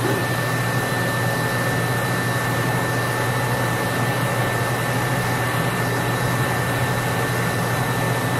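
A steady, loud roar of a propane or blowtorch flame heating a radiator bracket on a John Deere 6675 skid steer for soldering, continuous and close with no talking over it.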